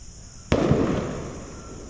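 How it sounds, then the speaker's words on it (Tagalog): A single sharp firecracker bang nearby, followed by a crackling, rumbling tail that slowly fades out. "Paputok."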